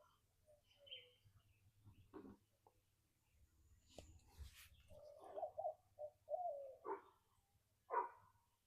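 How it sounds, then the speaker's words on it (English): Scattered bird calls sound in quiet mountain surroundings at sunrise, a few short chirps and coos spaced apart, with faint low murmuring underneath. "the birds are chirping"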